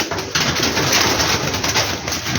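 Teddy pigeons cooing in a loft setup, a soft continuous chorus of low burbling coos close by with steady background rustle and no talk.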